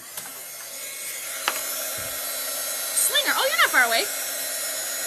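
A hair dryer blows steadily to dry chalk paste on a craft stencil project, a continuous whir running under the whole stretch while someone talks over it.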